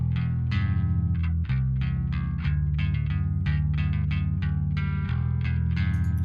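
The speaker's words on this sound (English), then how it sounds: "Without all the stuff on, the bass tone just sounds like this." A bass guitar plays a repeating, sustained low line in a fairly clean tone, with light percussive ticks above it and no voices.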